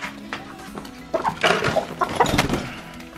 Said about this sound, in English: We're not supposed to have chickens in the basement